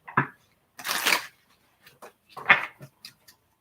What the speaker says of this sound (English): this will be our last shuffle.